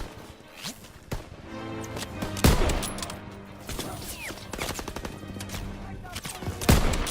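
Machine gun fire and scattered shots in a Call of Duty WW2 beach assault, rattling bursts and sharp reports amid battle noise, with game dialogue in French heard alongside.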